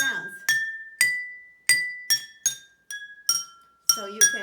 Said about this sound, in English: I've got 5 glasses, and I put more in this one and a little bit less all the way down until it makes different